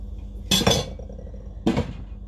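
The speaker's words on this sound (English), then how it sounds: "I'm just going to have to keep putting the lid back on" Metal lid clinks twice back onto a cooking pot of Japanese hotpot broth with garlic and tamari, two short bright clatters about a second apart, fairly close.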